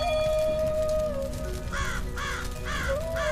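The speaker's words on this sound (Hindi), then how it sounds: "टुनटुनी चिड़िया को एक कौवे की आवाज आती है" A crow in a cartoon caws four times in quick, evenly spaced calls after a sustained tone, fairly faint against a background hum.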